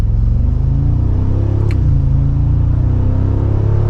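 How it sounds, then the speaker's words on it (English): A Mercedes-Benz G63 AMG engine idles steadily with a deep rumble and low throaty exhaust note, rising briefly in pitch midway before settling back. "we have a much louder exhaust,"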